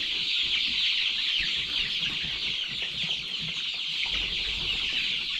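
Many chickens cluck and chatter together on a poultry farm in the morning, a dense, continuous chorus of overlapping calls filling the space at close range, with no talking.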